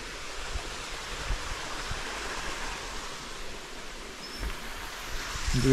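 Water rushes steadily beside a mountain road on the drive from Roing to Anini, a constant broadband wash that swells slightly toward the end, with no one speaking.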